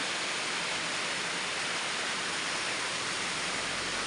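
Dense, constant hiss of heavy rain, loud and unbroken, like a downpour drumming on a roof.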